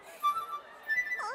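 A voice imitates a bird in a flute-like way, with short, thin whistled tones and chirps that come up twice in a brief, fairly quiet phrase.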